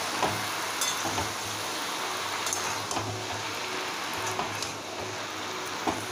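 Water spinach and fish head stirred in a wok, a steady soft sizzling and scraping texture with light clicks of the utensil, faint and continuous throughout.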